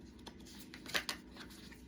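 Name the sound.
shuffling tarot cards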